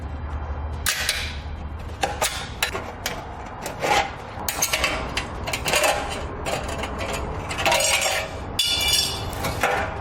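Tin snips cut a metal heat shield on a 2019 Subaru, making repeated rasping, scraping cuts with metallic clinks, close and loud in an uneven rhythm with no talk.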